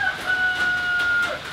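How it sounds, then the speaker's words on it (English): A rooster crows once in a drawn-out, thin call, somewhat distant, over a steady background hiss. "My rooster is confused because I have the garage light on."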